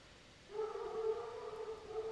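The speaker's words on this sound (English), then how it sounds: "Holy moly, why are my dogs so loud?" Dogs howl in a sustained, wavering tone that rises after a half-second of quiet, moderately loud and fairly near, with no distinct barks standing out.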